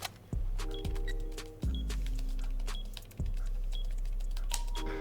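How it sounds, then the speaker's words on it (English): Defuser being planted in the video game Rainbow Six Siege: a looping electronic beeping and whirring tone with sharp clicks restarting every second or so, over a low hum. "Now the diffuser, whenever you plant it, there's going to be this very audible noise,"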